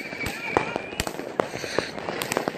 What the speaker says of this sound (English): This is our big fireworks battery thing.